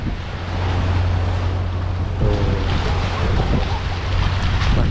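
Sea waves and gusting wind roll in continuously beside the floating mosque on the Red Sea shore, a broad rushing surf with wind buffeting the microphone and a low steady hum underneath.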